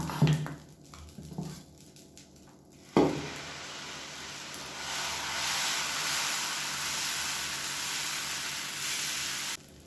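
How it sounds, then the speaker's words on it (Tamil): Dosa batter hits a hot, oiled griddle and breaks into a loud, steady sizzle that hisses on for several seconds, after a few light clinks and taps of utensils. "இப்போ மாவு ரெடியாக இருக்குது. தோசை ஊற்றிடலாம்."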